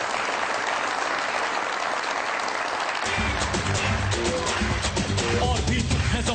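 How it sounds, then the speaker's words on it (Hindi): Loud, dense audience applause for Ali Safina on a comedy talk show, a continuous wash of clapping that carries on as a low musical sting joins halfway through. "बहुत सारी तालियां अली सफीना के लिए।"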